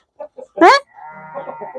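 Farm animals calling for feed, sheep bleating and chickens clucking: a few short clucks followed by one loud bleat, then softer mixed animal sounds close by.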